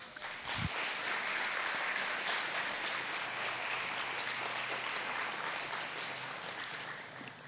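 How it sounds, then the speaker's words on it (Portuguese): Church congregation applauding loudly and steadily for several seconds, a dense wash of many hands clapping that fades only slightly toward the end, with no voices over it. "Pode aplaudir."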